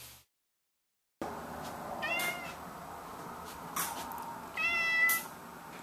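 A house cat meows twice, close and clear, with a short gap of silence at the start and a quiet room behind it.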